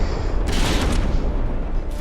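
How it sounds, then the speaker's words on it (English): Warship naval guns trade long-range fire in a dreadnought battle game, a dense rumbling boom with bursts of heavy gunfire, loud and continuous. "ships are now back into the long-range artillery duel"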